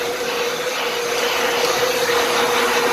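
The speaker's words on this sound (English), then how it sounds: "vacuum, vacuum over it, get all the sawdust off of it" A vacuum cleaner runs continuously at close range, cleaning sawdust off a freshly resawn wooden board with a loud, steady whooshing drone and no pauses.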